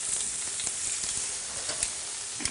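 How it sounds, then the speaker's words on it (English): Beef steak searing on a hot griddle, cooked very rare, gives a steady close hiss and sizzle with small crackles and pops throughout, no voices over it. "I like my beef really underdone, so I'm only going to give this about 2 minutes aside."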